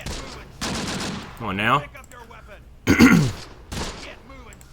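Gunfire from the WWII tactical game Close Combat: The Bloody First, a few loud bursts and shots between stretches of someone talking over the game.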